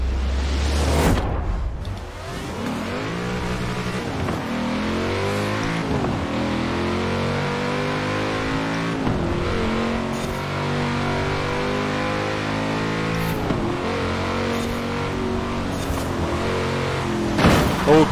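Race car engines in the Forza racing game, including a Nissan GT-R, roar and rev steadily with rising and falling pitch sweeps as gears change, loud and continuous with sharp impacts near the start and end, no talk.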